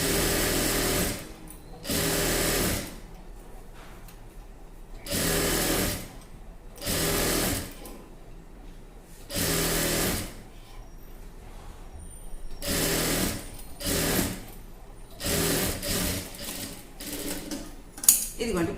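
A sewing machine stitching a dress neck runs in repeated short bursts of a few seconds each, loud and close, separated by pauses with quiet handling and faint talk.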